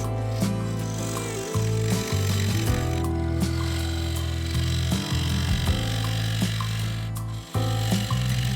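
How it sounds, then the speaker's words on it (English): A bowl gouge cutting yew timber on a spinning wood lathe, a steady humming drone with rough scraping and brief interruptions as the tool meets and leaves the wood. "This was mostly cutting into yew timber, so the bowl gouge was the tool of choice."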